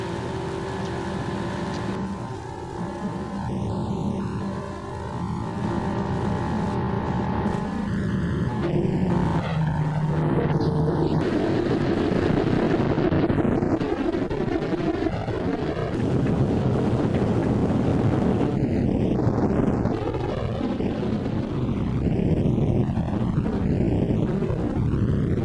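The engine of a Martin B-26 Marauder bomber is started: a whining starter is engaged, then the engine catches into a loud, steady roar that runs continuously with wind-like rumble and no talk.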